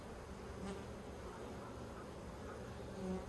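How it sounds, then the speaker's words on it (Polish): A steady, low buzz of agitated honeybees hums throughout during oxalic acid sublimation treatment of a hive, a mass of bees droning close by, with no talking. "pszczoły wypryskują, no bo one są po prostu zdenerwowane"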